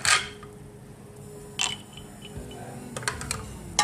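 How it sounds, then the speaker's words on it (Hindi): Ice cubes drop into a glass of milk sharbat, making a few short clinks and knocks spread across a quiet background, with no talking. "इसी तरह हम दूसरे गिलास में भी डालेंगे। इसमें भी बर्फ़ डालेंगे हम।"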